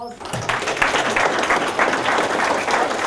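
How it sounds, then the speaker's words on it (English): A crowd at a real estate seminar breaks into applause for a presenter, a brief burst of steady clapping that follows a voice, fairly loud and close. "Give Phil a round of applause."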